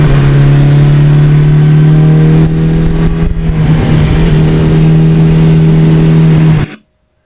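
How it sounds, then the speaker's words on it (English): A 1982 Suzuki GS1100E motorcycle engine drones at steady low revs while riding on the open road, loud and close with a strong low hum and wind rush, cutting off abruptly. "that engine is just the heart and soul of this motorcycle"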